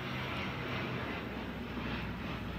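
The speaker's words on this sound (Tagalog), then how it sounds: "may dumang eroplano" An airplane passes overhead with a loud, continuous broadband engine roar that holds steady for the whole stretch, with no voices over it.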